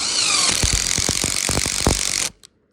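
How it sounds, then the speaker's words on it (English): A power drill bores into a tree trunk to make a shaft for tree cabling, a loud continuous whine with rhythmic thumping bursts as the bit bites into the wood, ending abruptly. "So I'll show you how I drill it."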